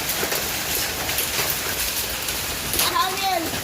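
Hail pelting down during an early November hail storm, a dense, steady patter of small impacts heard close by, with voices talking briefly near the end.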